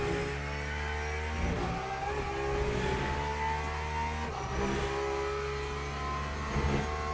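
A race car's engine revs and accelerates at COTA in Le Mans Ultimate, a steady loud mid-pitched drone with rising harmonic sweeps as it climbs through the gears, no other sounds.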